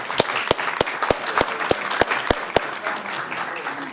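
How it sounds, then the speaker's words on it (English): Audience applause at a Sacramento city council meeting, honoring Team Rubicon and the Office of Emergency Services: a steady wash of clapping with a few sharp, louder claps standing out, filling the room for about four seconds without speech. "Please give a round of applause to Team Rubicon and our team here at Office of Emergency Services."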